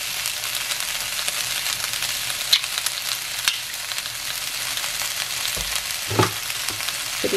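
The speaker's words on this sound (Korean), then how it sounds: "햄이 약간 갈색 빛나게 이제 볶아줬거든요" Vienna sausage ham being stir-fried in a pan until lightly browned gives a steady, close sizzle and crackle, broken by a few sharp clinks and scrapes of a utensil against the pan. No one talks.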